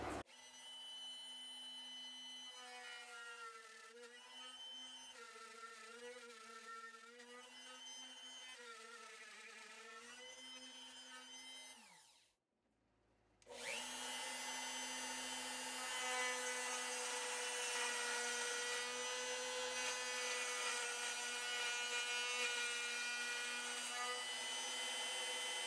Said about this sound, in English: Now I'm just rotating the router 180 and making our second cut.